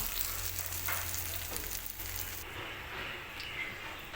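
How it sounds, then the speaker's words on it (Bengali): A fish head frying in hot oil for a Bengali moong dal dish gives a steady, close sizzle that runs without a break and thins out partway through, with no talking. "মাছের মাথাটা এখানে ভাজা হয়ে গেছে উঠিয়ে নেব"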